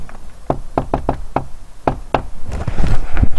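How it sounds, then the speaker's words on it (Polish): Knuckles rap on a door in quick bursts, several loud close knocks in an uneven rhythm with a pause, followed by muffled rustling movement. "A tymczasem pukamy!"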